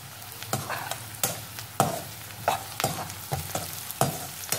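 Vegetables for veg fried rice are stir-fried in a pan, with a bed of sizzling under sharp, regular scraping strokes of the spatula, roughly one every half-second to second, close and clear.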